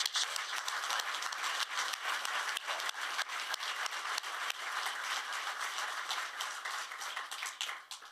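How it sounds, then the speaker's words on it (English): An audience in Glasgow gives a sustained round of applause at a governor's celebration event, a dense, even wash of clapping lasting about eight seconds before tapering off. "I want you to give yourself a round of applause for that success."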